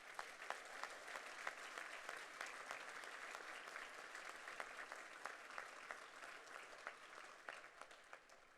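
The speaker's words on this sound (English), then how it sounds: "I ask that you give them a huge round of applause." At an annual gala program, a crowd applauds the Gift of Life honorees with a thick, even wash of clapping that holds steadily for several seconds, heard quietly as if from a distance.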